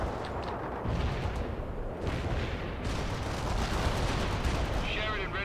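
Incoming artillery fire from World in Conflict pounds in a dense, loud wash of blasts and rumbling booms, continuous across the stretch with faint voices beneath.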